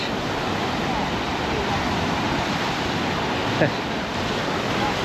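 Steady roar of surf rolling onto Arena Gorda Beach, a continuous broad wash of breaking waves with wind buffeting the microphone, loud and close, with no other sounds standing out.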